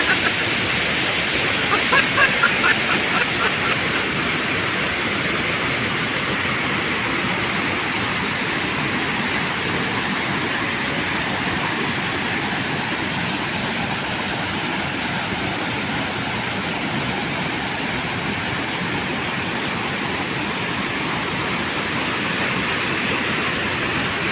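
Kawasan Falls, a tropical waterfall, roaring as a steady, loud, unbroken rush of falling water that fills the whole scene from start to finish.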